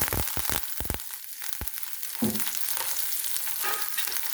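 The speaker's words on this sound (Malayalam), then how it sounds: "കടുക് ഇട്ട് കൊടുക്കാം." Mustard seeds sizzle and pop in hot oil in a pan for a Kerala lime pickle; sharp pops come first, then a steady, close frying hiss.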